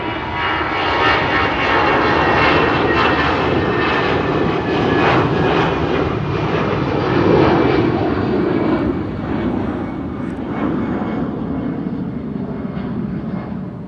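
EasyJet jet airliner departing at Amsterdam Schiphol Airport, a loud sustained engine roar close by that swells and slowly fades as the aircraft moves away.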